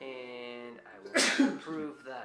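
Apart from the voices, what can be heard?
sneeze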